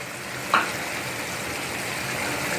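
Egg and prawn curry frying in a pan, with a soft continuous sizzle and one sharp scrape of stirring near the start, fairly quiet and close.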